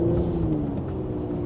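A Mercedes-AMG GLC 43 SUV's V6 engine pulls in Sport Plus mode with a refined, low, steady drone that rises only slightly in pitch, heard from close by with no talk.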